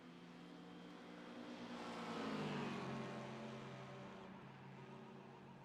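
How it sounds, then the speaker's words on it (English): A GT4 race car in the iRacing game sweeps past at the 24 Hours of Nürburgring, its engine swelling to a peak and then falling in pitch as it fades, fairly quiet overall. "Here comes the GT4."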